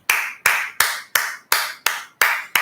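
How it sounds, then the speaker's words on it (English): Seven crisp, evenly spaced hand claps ring out one after another in a steady rhythm, close and fairly loud, from a single person applauding with no talk. "I just want to applaud him."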